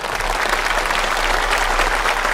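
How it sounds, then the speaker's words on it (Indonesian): Audience applause fills a mosque hall during a religious lecture, a steady, dense wash of many hands clapping at even loudness throughout, with no voices on top. "ayo tepuk tangan dulu."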